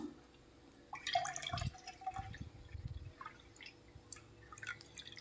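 Colostrum milk is poured through a strainer, with a short splashing pour followed by scattered drips and trickles into a vessel, faint and close, with a low background hum.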